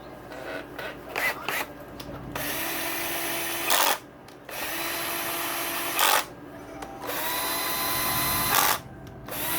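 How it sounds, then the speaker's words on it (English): Cordless drill spinning bolts on a Honda CRF450R motocross engine during a top-end rebuild, a close whirring buzz in several bursts: short quick pulses first, then longer sustained runs separated by brief pauses. "I use this cordless drill here to do all the twisting work for me."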